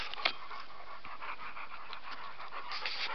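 Several big dogs pant steadily and rapidly outdoors in the bush, a continuous close breathy rhythm with a brief sharper sound near the start.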